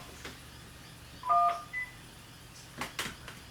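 A few short telephone keypad beeps on a voicemail system, two quick tones close together, with faint clicks and soft background noise around them.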